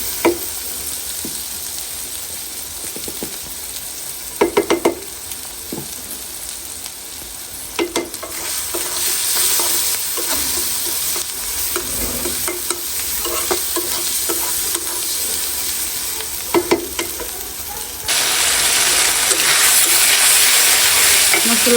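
Ginger-garlic paste with turmeric and chilli powder frying in a pan, a dense steady sizzle with repeated scraping stirs and utensil clacks, close, growing louder and hissier toward the end.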